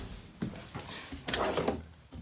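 A low kitchen drawer in a new 2020 Forest River Rockwood Mini-Lite 2511S travel trailer slides open and shut, giving a few soft knocks and sliding rubs at close range, with no talking.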